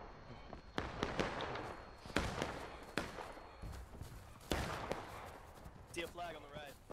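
Scattered musket and rifle shots in the Civil War game War of Rights crack out at irregular intervals, some sharp and close, others more distant, under a steady battlefield din with voices talking over it.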